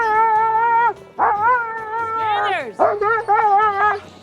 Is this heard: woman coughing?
no